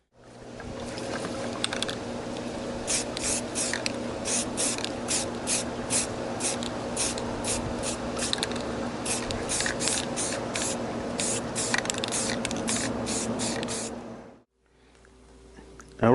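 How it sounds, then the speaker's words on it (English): Primer being spray-painted onto PVC pipe, a steady close hiss of aerosol lasting about fourteen seconds with rapid rattling pulses running through it, then abruptly stopping into a quiet room. "Alright guys, I just got done spray painting"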